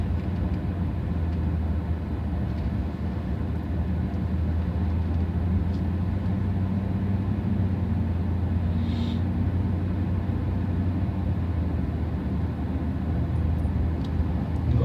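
A car drives along a rural road in Salona, Pennsylvania, giving a steady loud engine and road rumble heard from inside the vehicle, with no talk over it.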